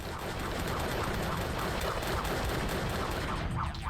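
Rapid, continuous pistol fire in the video game Drake of the 99 Dragons, shots crackling densely and loudly one after another without pause, layered with busy game effects.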